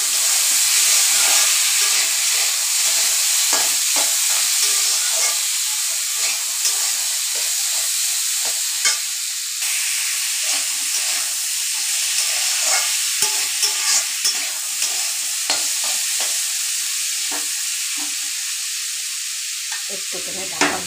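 Chana frying with salt and turmeric in a pan before dheki saag greens go in: a steady, close sizzle with stirring scrapes and crackles running throughout, no voices.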